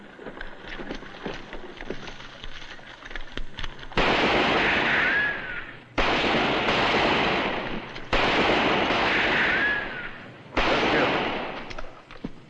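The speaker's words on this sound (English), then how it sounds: "All right, start shooting." Gunfire in a western cowboy movie, with loud, dense volleys of shots in several long bursts that cut in and out abruptly, separated by quieter stretches of background noise.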